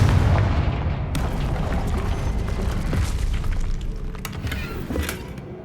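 A Confringo blasting spell goes off in the video game Hogwarts Legacy, a loud booming burst that rolls into a long rumbling crash with scattered crackling debris, then slowly fades.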